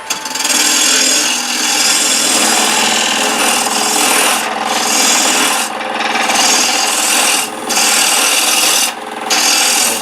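A gouge cuts a tenon on a wooden wedge spinning on a wood lathe, giving a continuous dry scraping and rasping that breaks off in a few short pauses, with no talking.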